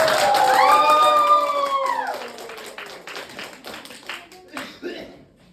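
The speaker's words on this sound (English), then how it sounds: "Clap hand for Nurjan Natul Mawa." An audience claps to welcome a presenter giving a talk on the accounting cycle. Sustained clapping fades out under gliding tonal sounds, with a few scattered claps trailing at the end.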